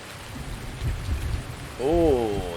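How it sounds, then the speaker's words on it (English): Rain falls steadily with a low rumble of thunder in the farming video game Farming Simulator 19, and a voice briefly sounds near the end. "Oh, you can hear the thunder."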